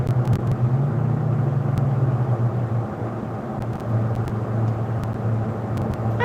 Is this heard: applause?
no